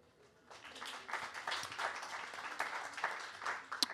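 Light, scattered applause from a modest audience at a panel event as a panelist is introduced, rising quickly and holding steady for a few seconds at moderate distance.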